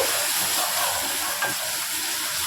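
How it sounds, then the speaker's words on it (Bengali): Chicken masala with cumin powder sautéing in a pan gives a steady, dense sizzle and frying hiss at fairly close range, with a slight stir near the middle and no voices. "এবার এটা সুন্দর করে কষাতে হবে"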